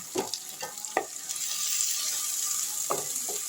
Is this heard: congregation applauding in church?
no